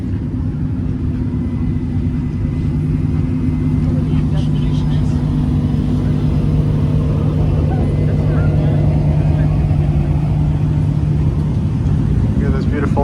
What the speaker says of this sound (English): So the cars are lining up for the drive.